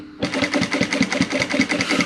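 Upholstery sewing machine stitching faux leather in an automotive upholstery workshop, starting abruptly and running as a loud, steady rapid needle chatter with an even mechanical rhythm throughout.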